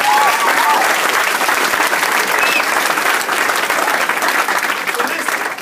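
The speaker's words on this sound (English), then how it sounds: "Let's give a separate round of applause" At a signing ceremony at Plant High School, the crowd claps loudly and steadily for a district champion runner, a thick, continuous roar of hands with faint voices mixed in.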